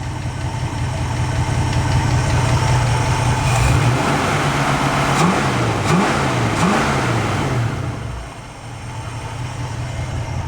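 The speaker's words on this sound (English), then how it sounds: "One lift just taps once in a while." Engine of a 1967 Ford Mustang idling and revving up several times, loud and close, with a lifter tapping now and then under the running engine.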